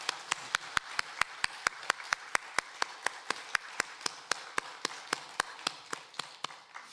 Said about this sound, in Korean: 위대하신 하나님, 영광의 하나님 앞 우리도 힘찬 박수로 영원 돌리겠습니다